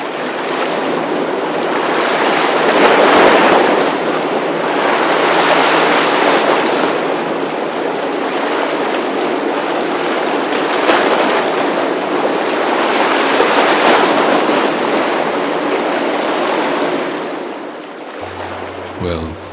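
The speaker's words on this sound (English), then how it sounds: "what you hear there is some splashing waters and the air condition of the engine room" Water splashing against a container ship's hull with the engine room air conditioning roaring underneath, a loud, continuous, broadband wash that surges and eases over time.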